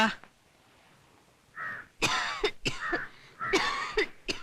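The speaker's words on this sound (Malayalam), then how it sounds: "നിനക്ക് എത്ര നാളായി ചുമ തുടങ്ങിയിട്ട്" After a quiet stretch, a person coughs several times in quick, harsh bursts, close and fairly loud.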